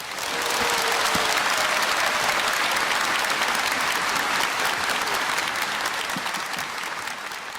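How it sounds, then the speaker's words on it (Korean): Sustained audience applause at a franchise business forum award presentation, a dense, even wash of many hands clapping continuously throughout, with no talking. "큰 박수 부탁드리겠습니다."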